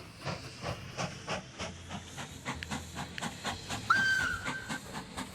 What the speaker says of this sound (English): I love the tunnel whistle.